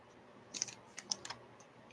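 Keys click on a computer keyboard in a short, quiet burst of irregular taps, with a sharper click at the end.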